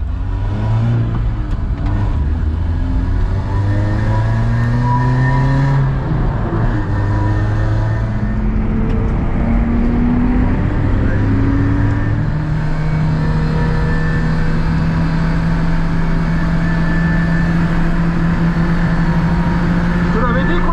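Race car on the Dijon-Prenois circuit accelerating through its gears on the final lap of the day, a loud close engine with repeated rising pitch sweeps and shifts, steady and continuous throughout.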